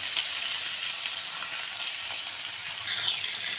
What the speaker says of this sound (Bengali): তেলটা আমার গরম হয়ে গেছে, এবার এখানে মাছগুলো হালকা করে ভেজে নেব।